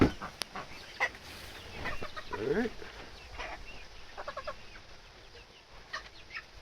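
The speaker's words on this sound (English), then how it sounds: "Blue Cochin Rooster in the gravel pit." A Blue Cochin rooster and young chickens cluck and call in a gravel pit, several short close calls scattered over soft background noise, with a brief spoken word at the start.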